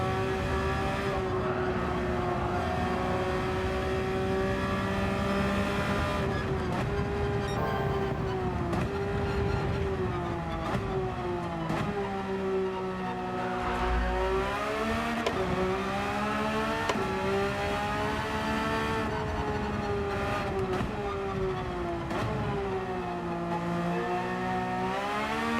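A Porsche race car engine in Gran Turismo 7 at Mount Panorama drones steadily and loudly for the whole stretch, its pitch rising through the gears and dropping on downshifts, with no talk over it.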